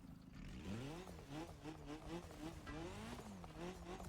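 A three-cylinder rally car engine in the video game The Crew Motorfest revs steadily with rising and falling pitch, loud and close, continuous throughout.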